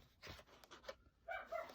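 Dogs bark and pant faintly in the distance, with brief breathy huffs followed by a short burst of barking in a quiet indoor space.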